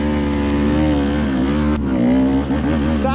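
KTM 150 EXC enduro motorcycle engine running close by, a loud, steady, buzzing drone that holds throughout with only a slight wavering in pitch.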